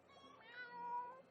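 A cat meows in the animal rescue video game Animal Rescuer, a single drawn-out, faint meow alone against a quiet background.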